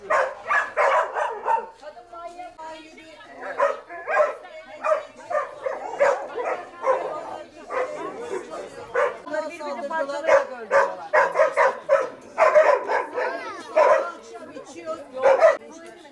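Several dogs bark repeatedly in irregular bursts at a property where many animals are kept, with some yips and whimpers mixed in and people talking throughout.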